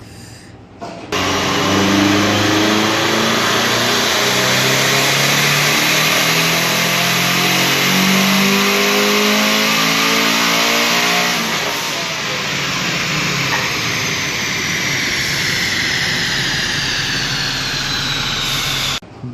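Turbocharged automatic FT86 on a dyno with a flex fuel kit and electronic boost controller, running about 7 psi of boost: a loud, sustained full-throttle pull with rising pitch through third gear before it eases off near the end.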